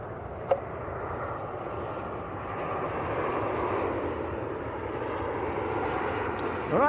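An airliner climbs away after departing Manchester Airport, its engine roar a broad, steady rumble that swells slightly mid-pass before a brief sharp noise near the end.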